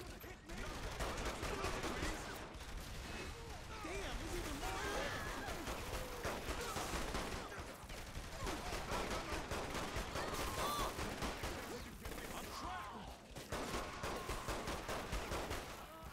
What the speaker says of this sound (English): Who's shooting me from the back?